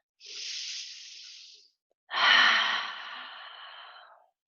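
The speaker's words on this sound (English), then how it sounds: "Deep, slow breaths." Two deep, slow breaths during a slow flow yoga class, a soft airy inhale followed after a brief pause by a fuller, louder exhale, close and alone.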